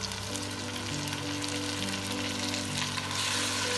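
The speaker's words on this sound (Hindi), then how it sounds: "अब मैं इसमें लहसुन अदरक डालूंगी।" Garlic and ginger sizzling with onions turning golden in a pan, a steady, dense frying hiss that carries on without a break, close and fairly loud, with a low hum underneath.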